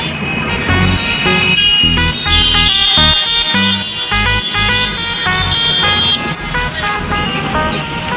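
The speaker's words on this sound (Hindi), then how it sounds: "पीछे पूरा जाम लगा हुआ है।" Jammed highway traffic near Agra in rainy weather, with repeated car and truck horns honking over a dense low engine drone, close and loud, while voices talk nearby.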